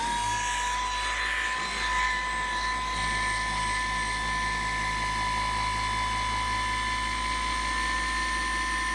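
A car polishing machine runs at low speed, probably speed 3, a steady continuous whine with a high tonal hum that holds even and loud throughout, with no talk.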